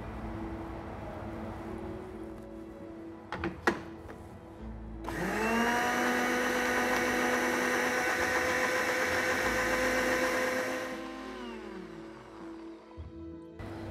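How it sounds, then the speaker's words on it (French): A blender whirs loudly for several seconds, mixing seaweed with raspberry juice and honey after boiling, spinning up sharply after a few clicks, holding a steady high whine, then winding down. "nous allons mixer le tout de façon à bien mélanger les algues avec le jus de framboise et le miel"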